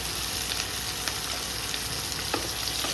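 Chopped tomato, capsicum and onion fry with a pinch of salt in a pan, a loud, continuous sizzle with occasional faint stirring clicks, heard alone without voices.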